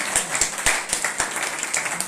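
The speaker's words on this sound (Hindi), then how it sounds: "तालियां तो बजा दो भाई।" An audience applauds at a prize giving during a religious gathering, with moderate, slightly uneven clapping at a modest distance.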